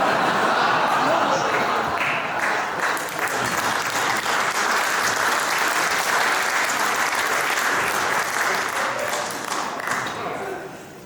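A keynote audience claps and cheers steadily and loudly for about eleven seconds, a dense roar of applause with scattered whoops that fades slightly at the end.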